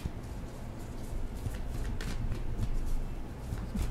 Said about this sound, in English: I'm going to keep shuffling.